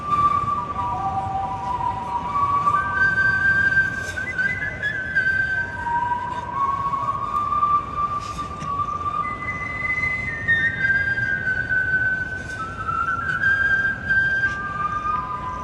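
Someone whistles the national anthem at a baseball game, a slow, stately melody, clear and fairly close, over a faint background hum.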